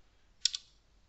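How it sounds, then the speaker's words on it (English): A computer keyboard or mouse on a Windows 10 PC gives one quick, crisp double click, close and isolated in a quiet room. "clicking on the Windows button, typing in the word camera"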